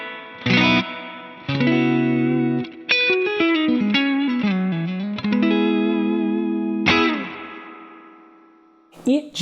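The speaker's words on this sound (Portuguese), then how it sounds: "Vou tirar o eco para vocês ouvirem só o reverb." Electric guitar played through the spring reverb of a Strymon Volante pedal with its echo turned off: loud sustained chords and single notes ring out, then a long, splashy reverb tail fades near the end.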